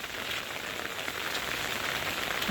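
Steady rain pattering on a hard surface, a dense continuous hiss of drops close by with no voices.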